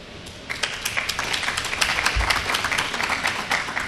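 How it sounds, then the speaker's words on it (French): Audience applause at a government minister's speech unveiling a new aircraft, a dense wash of clapping building from soft to sustained, moderately distant with a brief low thump partway through. "Merci pour vos applaudissements"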